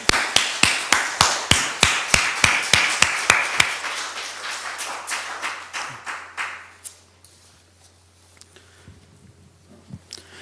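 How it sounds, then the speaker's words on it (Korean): A church congregation claps together in a loud, steady rhythm of sharp, evenly spaced beats for a few seconds, then the clapping loosens into scattered, fading claps before quiet. "박수 한번 보내드려 볼까요?"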